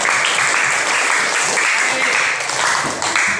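Steady, dense clapping from a crowd lasting the whole stretch, loud and close, with some voices mixed in.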